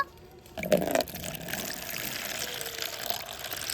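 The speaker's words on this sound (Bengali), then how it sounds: "এই পাত্রর মধ্যে নর্মাল জল দিয়ে দেব" Plain water is poured into a discarded container, starting with a brief splashing gush and then settling into a soft, steady trickle close by.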